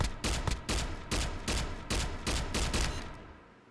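A pistol firing full-auto in the VR game H3VR, loud repeated bursts of rapid shots with brief pauses between them, close and alone with no talk.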